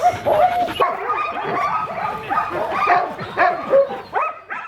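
Sled dogs bark, yip and whimper excitedly while being hitched to the gang line before a run, a dense overlapping chorus of close, loud calls that continues without a break.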